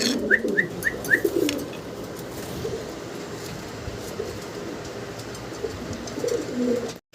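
Golla pigeons cooing softly at low pitch, with a quick run of small chirps near the start, over a constant background hum.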